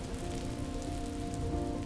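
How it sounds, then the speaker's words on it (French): Heavy rain pours down across the Serengeti plains, a loud, dense, continuous hiss of drops hitting the ground, steady from start to finish with no voices. "L'arrivée de la pluie marque un temps de renouveau"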